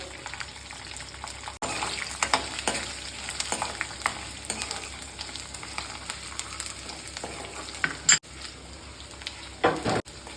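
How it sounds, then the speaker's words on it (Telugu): Tempering sizzles steadily in hot oil with dried red chilies, curry leaves and garlic for a drumstick-leaf and sesame-flour curry, with occasional sharp clinks of a ladle stirring the pan. "పోపు కొంచెం వేగాక ఎండుమిర్చి వేసుకోవాలి కరివేపాకు వెల్లుల్లి ఇది ఏగేటప్పుడు కొంచెం ఇంగువ"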